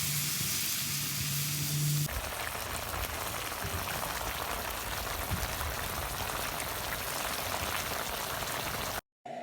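A pot of vegetables and shrimp bubbles and simmers with a steady hissing, crackling boil, close and constant, with no voices.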